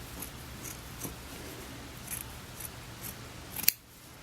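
Scissors snip lengthwise through strips of human hair being prepared for loc repair, giving a run of soft, close cuts at a steady pace, ending in one sharper, louder snip near the finish.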